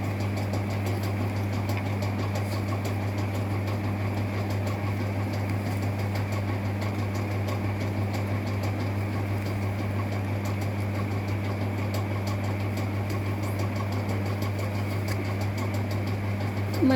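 Sewing machine running steadily while hemming the fall of a saree, a continuous even motor hum with a strong low drone and faint mechanical rattle throughout, close and alone with no talk.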